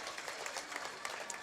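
A crowd at a martial arts cup finals gives faint, distant applause after a performance, a steady wash of clapping with a few sharper claps standing out.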